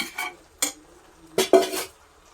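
Food is stirred in a cooking pot: a few close, quick metallic scrapes and clinks, separated by short quiet gaps.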